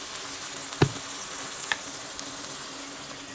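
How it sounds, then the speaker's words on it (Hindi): Masala spices fry for a chole gravy, giving a steady soft sizzle with a couple of sharp stirring clicks near the start, fairly quiet and with no voices. "अब इसमें हम डालेंगे उसका मसाला, फ्राई करना था एक ही बार फ्राई कर लेंगे"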